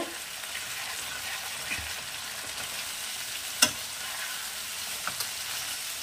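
Spice paste frying in a pan for a Bengali fish curry with drumsticks and bottle gourd, a steady soft broadband sizzle throughout with one sharp clink or stir near the middle and a couple of small taps later, no talking.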